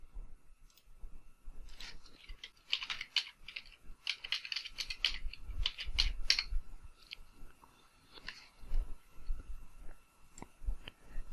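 Typing on a computer keyboard during a password-security lab on a virtual PC: brief bursts of quick, light key clicks with pauses between them, close and fairly quiet, with no talk.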